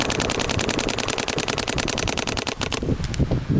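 Two paintball markers, a Planet Eclipse LV2 and an HK Army Shocker AMP, fire in a rapid, steady stream of sharp pops outdoors, loud and close, with the rhythm breaking up and turning sparse near the end.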